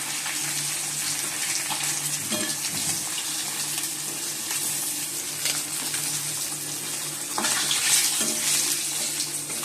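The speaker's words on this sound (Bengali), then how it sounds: "মাছটা ভেজে নিচ্ছি।" Rui fish, salted beforehand, frying in very hot oil in a wok, a continuous dense sizzle and crackle that holds steady for nearly ten seconds with a brief louder spit near the end, close up and without talk.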